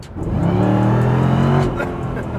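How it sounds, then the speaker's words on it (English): A sports car engine with a stock exhaust revs up with a deep, throaty note rising in pitch, then settles back to a steady rumble, loud and close. "Even a stock exhaust sounds pretty good"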